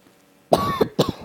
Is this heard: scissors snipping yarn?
no